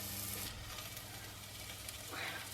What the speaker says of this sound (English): Just a light sizzle, that's fine.